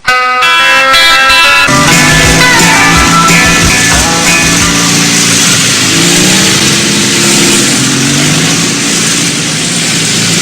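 A motorcycle engine revving hard up close, loud and sustained with rising and falling pitch after a short opening tone, no talking.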